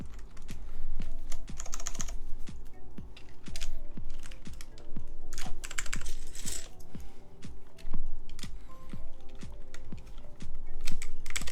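Steady typing on a Keycult No. 2 mechanical keyboard with Alps switches and DCS Reaper keycaps, close and crisp, with a continuous run of clacky keystrokes and no talking.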